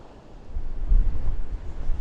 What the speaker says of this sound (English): it is windy tonight here in Blackpool